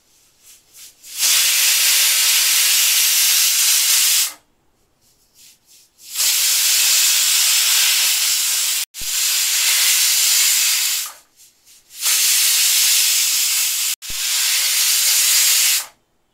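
A pressure cooker cooking mutton with potatoes vents steam in four long, loud, hissing bursts, each lasting a few seconds, separated by short gaps of near silence, with a few brief puffs before the first.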